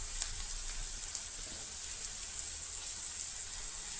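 Soya chunks fry lightly with onions in a pan: a soft, even, continuous sizzle with faint pops, held at a low level from start to finish.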